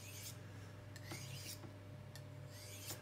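A kitchen knife is stroked from heel to tip along a sharpening steel, with soft rasping metal scrapes repeating in an even rhythm, close and quiet, with no speech.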